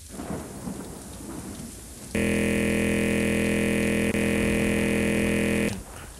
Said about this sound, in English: I think the rain effect is actually pretty cool in here.